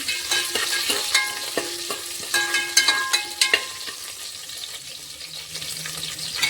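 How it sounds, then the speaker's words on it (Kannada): Chopped coriander sizzles in hot oil in a pan as a spoon stirs it, with repeated sharp scraping clicks over a steady frying hiss, close and moderately loud. "ಕೊತ್ತಂಬರಿ ಹಾಕೋತೀನಿ ಸ್ವಲ್ಪ ಹಾಕಿ ಎಲ್ಲ ತಿರ್ಕೋತೀನಿ"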